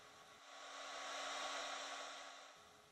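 A heat gun blows a steady, loud hiss of hot air onto a Shaft Skinz sleeve on a golf club shaft, swelling slightly in the middle and easing off toward the end, with no talking.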